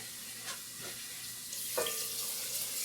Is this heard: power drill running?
no